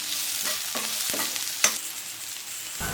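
Tomato and onion sautéing with spices in hot oil in a kadai for a street-style goat brain pepper fry, a steady sizzle with stirring scrapes and one sharp clink partway through.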